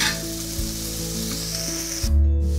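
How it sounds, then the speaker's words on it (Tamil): Sweet potato slices sizzle steadily in hot frying oil, a close, continuous hiss that is fairly loud and has no voices over it. "இதையும் போட்டு வறுத்துடலாம்"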